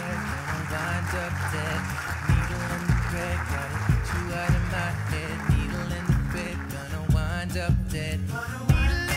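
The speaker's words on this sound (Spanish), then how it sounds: "Un fuerte aplauso para el entrenador Xavi Molist" An audience at a coaches' awards ceremony applauds a football coach, with steady crowd clapping that runs under loud background music with a thumping beat throughout.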